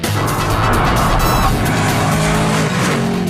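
A Ford Mustang tears along at high speed, its engine roaring loud and close while the tires squeal and skid continuously for a few seconds, with no voices over it.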